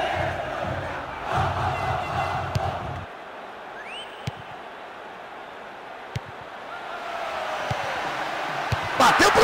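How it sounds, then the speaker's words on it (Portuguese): A stadium crowd in the Bomba Patch football video game roars and shouts continuously, loud at first, then settling into a steady background din that swells again toward the end, with a few sharp clicks. "Aí vem o cruzamento e a torcida não para de gritar."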